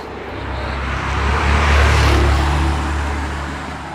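Cars pass on a road in Corsica with a loud, broad rush that swells to a peak mid-clip and fades away again, low engine rumble beneath.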